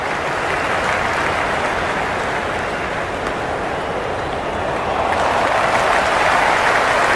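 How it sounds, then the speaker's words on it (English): Dense roar of a cricket stadium crowd cheering in the Cricket 26 video game, a steady loud wash of noise that swells further toward the end, with no voices standing out. "It's evident and ever so audible that the crowd is at near bursting point"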